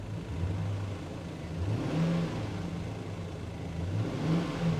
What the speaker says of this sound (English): I'll give her another little rev.